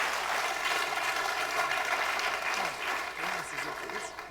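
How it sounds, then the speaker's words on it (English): Audience at a public meeting about Crowborough Army Camp breaks into sustained, dense applause that fills the room, with voices speaking over and through it. "couldn't tell where I was trying to talk over applause"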